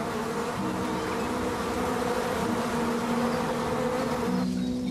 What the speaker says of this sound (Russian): Там нужно идти сквозь пчел.